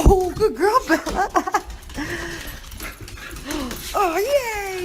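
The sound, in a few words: excited dogs whimpering and barking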